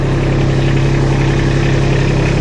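A Kubota B2601 tractor-loader-backhoe engine idles steadily and loudly up close, a constant diesel drone with a low hum and no talking.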